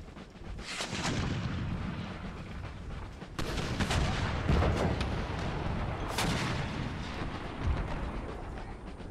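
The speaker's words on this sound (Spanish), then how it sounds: "Esperemos no hacerme daño con mi artillería." Artillery fire in the Empire Total War strategy game, with heavy booming cannon blasts over a continuous rumbling barrage of battle noise. Loud, dense salvos hit at several points and nobody talks.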